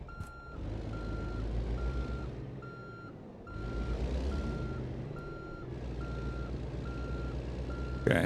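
Steady reversing beeps from a truck backing a trailer in American Truck Simulator, pulsing at an even rhythm over a loud engine rumble that surges and eases in waves, with a hiss of air near the end.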